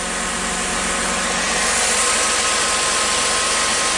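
Chrysler car engine idling, a steady, even hum under broad hissing noise with no change in level.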